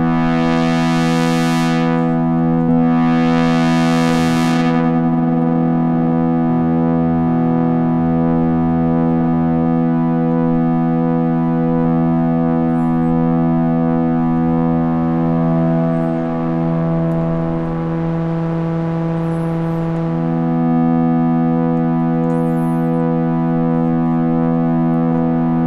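A sustained pad from a Modal Skulpt synthesizer holds steady tones while an LFO slowly sweeps its wave shape, adding a shifting, buzzy texture. The pad plays loud and unbroken with no voice over it.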